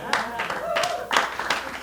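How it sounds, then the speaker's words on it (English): Sparse, half-hearted clapping from a small stand-up comedy crowd in New York, a handful of scattered claps spaced irregularly while a voice talks over them. "that felt like pity applause"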